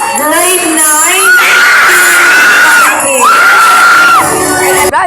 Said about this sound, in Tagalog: Grabe namang sigaw yan.